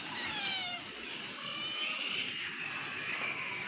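A cat meows a few times close by, a drawn-out, wavering cry at the start followed by softer, fainter mewing against a steady background hiss.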